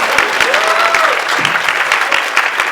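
Audience at a comedy roast claps for the panel in a loud, dense burst of applause lasting a few seconds, with a faint voice calling out partway through.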